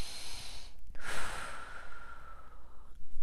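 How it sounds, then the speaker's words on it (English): A single slow, audible breath taken in a guided body-awareness exercise, starting with a soft inhale and easing into a long, airy exhale that fades out, close and clear with no talking. "take a breath."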